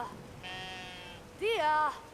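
A sheep in the video game Brothers: A Tale of Two Sons gives two nearby bleats, a short steady one followed by a louder wavering cry, against a quiet background.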